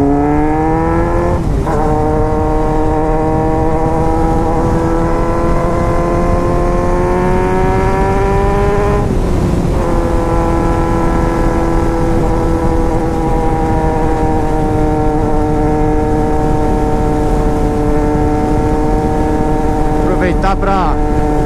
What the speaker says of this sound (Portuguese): Você ouve o motor dela, mas ouviu o 4 cilindros berrando?